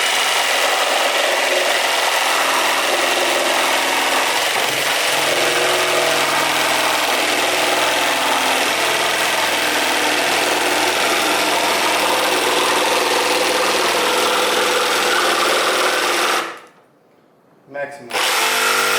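Ryobi 18V One+ R18JS7-0 cordless pendulum jigsaw cutting at half speed, a steady loud buzzing rasp that runs continuously for most of the stretch before briefly cutting out near the end.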